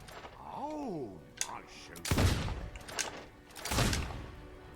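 Gunfire in the Fable 2 video game cracks out in a few sharp bursts, with rolling booms after each shot, mixed with game effects and a voice speaking.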